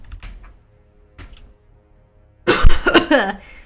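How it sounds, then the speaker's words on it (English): A person coughs a few short times, widely spaced and fairly faint, followed by a louder, longer bout of harsh coughing and throat noise. "Sorry for all the coughing."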